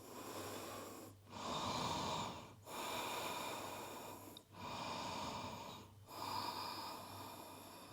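Slow, deep breaths during a yoga pose, close and audible, with long drawn inhales and exhales separated by short pauses, in a steady rhythm.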